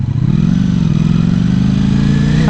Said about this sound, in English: I think this exhaust is beefy, and it's mean